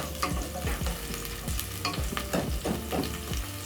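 Onions sizzle in a hot pan for a pork wet fry and get stirred with a utensil, giving repeated scraping strokes in a steady rhythm over a soft frying hiss, close and fairly quiet, with no talking.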